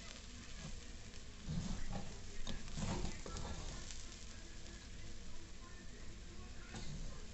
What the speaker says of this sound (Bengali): চাল ডালটা নুন মিষ্টি দিয়ে হলুদ দিয়ে এটাকে ভালো করে ভেজে নিচ্ছি